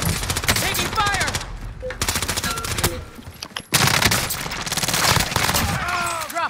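Dense automatic gunfire and repeated shots from Call of Duty Warzone Rebirth, loud and nearly continuous over six seconds, with bursts briefly dropping out before resuming, under background game noise.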